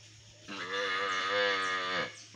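A young calf with brown spots moos in one drawn-out, strained bellow lasting about a second and a half, fairly close, with a low steady hum behind it.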